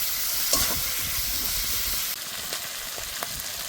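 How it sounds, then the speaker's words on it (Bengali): Shrimp coated in turmeric and salt fry in oil in a pan, a steady broadband hiss and sizzle with a few faint utensil ticks, close and even throughout, no talking. "এবার মাছগুলো ভালো করে ভেজে নেব।"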